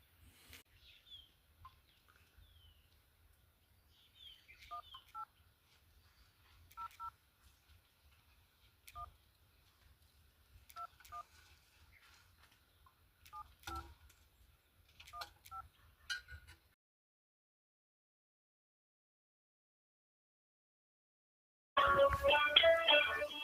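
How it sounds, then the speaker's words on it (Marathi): A mobile phone dials a toll-free number for a solar pump controller, producing a quiet series of short keypad tones in irregular bursts, followed by silence and then a louder burst of sound. "या टोल फ्री नंबरवर आपल्याला कॉल करायचा आहे तुम्ही पाहू शकता मी आता कॉल करतो"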